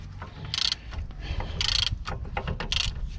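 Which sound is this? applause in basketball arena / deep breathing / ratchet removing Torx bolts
ratchet removing Torx bolts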